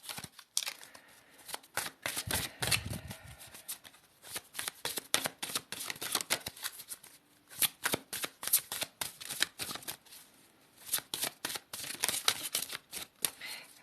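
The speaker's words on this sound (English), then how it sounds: "I'm going to pull a card for you." Tarot cards shuffled and handled during a reading, a long run of quick papery riffles and flicks, close and steady with no talking.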